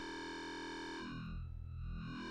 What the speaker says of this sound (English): So if we switch to a 1+2+3 saw,